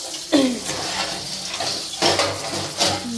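Pots and stove parts being washed by hand: clanking metal knocks and scrapes over running, splashing water, a few distinct clinks spread across the moment, close by, no voices.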